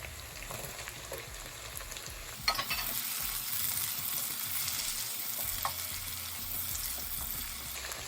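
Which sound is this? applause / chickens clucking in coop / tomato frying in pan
tomato frying in pan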